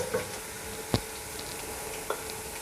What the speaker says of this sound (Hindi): लहसुन को हल्का सा सोते करना है, ब्राउन नहीं करना